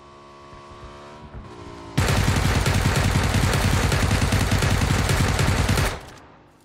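UMP submachine gun in PUBG firing a sustained automatic burst of rapid, loud, evenly spaced shots for about four seconds. The burst starts abruptly after a quieter stretch of game ambience and cuts off sharply at the end.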